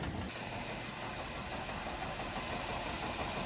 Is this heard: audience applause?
no